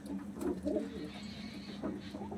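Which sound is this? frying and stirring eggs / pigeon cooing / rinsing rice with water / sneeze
pigeon cooing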